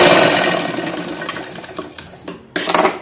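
A sewing machine runs a cross stitch across a blouse at the back neck design, a steady close whirring that fades over two seconds, breaks off briefly, then surges back loud near the end.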